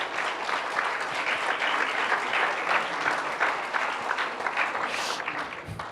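A church congregation gives sustained, dense applause, many hands clapping together at a steady level throughout, fading slightly near the end.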